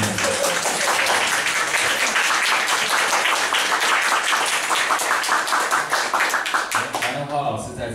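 An audience at an evening public talk applauds with dense, sustained clapping that thins toward the end, as a voice begins to speak.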